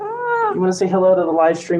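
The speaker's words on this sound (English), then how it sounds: "That was my cat, Bear." A pet cat named Bear meows a few times, close and fairly loud, mixed in with a person talking to it.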